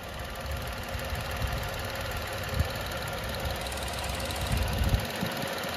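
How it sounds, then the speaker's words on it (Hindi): A Tata Nexon with a 3-cylinder BS6 Phase 2 engine idles, heard from outside the car, a steady low throbbing hum with faint knocking and no voices. "अब मैं बाहर जाऊंगा और बाहर से भी आपको इंजन नॉइस सुनाऊंगा।"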